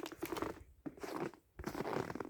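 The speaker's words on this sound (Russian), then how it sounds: "Ой, снежок хрустит, как хорошо." Footsteps crunch through fresh snow in a home yard on a winter evening, with rhythmic crisp crunches that pause briefly between steps and sound close and quiet.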